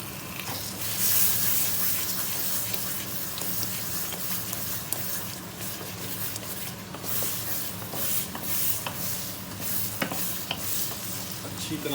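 Spoon stirring fresh cream into a sizzling egg and chickpea curry (anda chanay) in a hot pan, with continuous scraping and frying crackle close by throughout and no voices.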